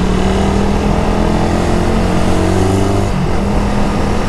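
A carbureted Suzuki Raider 150 motorcycle accelerates on a road with a 14T-45T chain set, its engine droning loud and close, the pitch rising through a gear before shifting near the end, wrapped in heavy wind rush.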